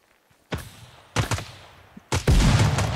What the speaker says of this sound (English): he's shooting me from behind